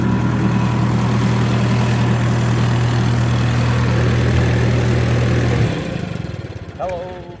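A Hobart M5 generating unit with a Hercules flathead engine runs under about a 3,000-watt load, droning loud and steady before it starts to falter and sputter near the end.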